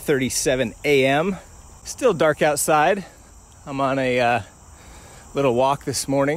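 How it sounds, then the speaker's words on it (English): Crickets chirp in a steady high-pitched drone outdoors before dawn on a warm, humid morning, continuous but quiet beneath someone talking close by. "So if you hear some birds chirping, crickets chirping,"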